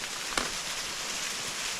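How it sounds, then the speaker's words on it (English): Rain falls steadily outdoors around a college football stadium on an uncrowded day, a soft, even hiss of drops on surfaces with one brief tap, no voices heard. "The rain's adding to the ambiance of it all."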